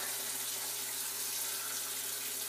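Tap water running steadily into a bathroom sink while a face is rinsed, a constant close hiss with no breaks and no talking.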